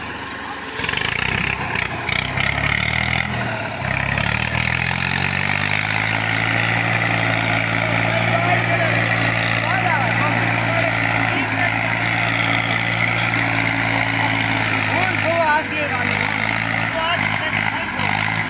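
A stuck tractor's engine labours loudly and steadily nearby, a low droning rumble with rising pitch early on, while people talk over it.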